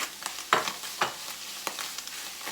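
Tuna being stirred and mixed with blended seasoning for cassava fish balls, a few scraping, squelchy strokes against the bowl at uneven intervals, close and moderately loud, without any talking.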